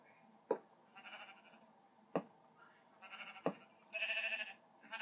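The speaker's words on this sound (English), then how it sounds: "There's a sheep stuck in there." Minecraft sheep bleating in the video game: a short sharp click, then four or five nasal bleats in a loose, uneven rhythm, fairly close and clear, with no talking.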